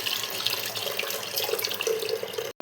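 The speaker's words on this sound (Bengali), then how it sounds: "প্রেশারের মধ্যে এটা ঢেলে দিচ্ছি" Liquid pours steadily into a pressure cooker on a kitchen stove, a continuous close splashing gush lasting a couple of seconds before stopping abruptly, with no talk.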